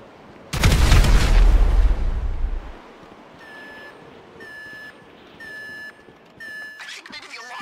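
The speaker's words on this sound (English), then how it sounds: "An explosion will tend to do that." A loud, close explosion in Grand Theft Auto V bursts out and rumbles for about two seconds, then fades into a repeating high electronic alarm beeping in short bursts.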